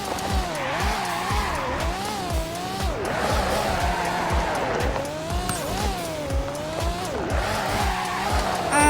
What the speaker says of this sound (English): What about a drift? Oh, drifts are really good also.